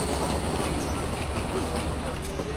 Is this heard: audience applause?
no